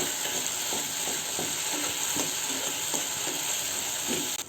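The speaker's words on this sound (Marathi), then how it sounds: "हे मिश्रण दोन ते तीन मिनटं ढवळून घ्या त्याला तेल सुटू द्या" Onion masala stirred and frying in oil in a pan, a continuous loud sizzle with repeated soft spoon scrapes and taps.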